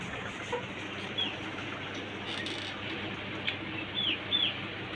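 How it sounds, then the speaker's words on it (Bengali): Chickens cluck softly around a white tiger breeder rooster in a rooftop cage, a few brief higher calls popping up over steady background hiss. "এই যে হচ্ছে যে আমার একটা সাদা টাইগার মোরগ, এইটা ব্রিডার।"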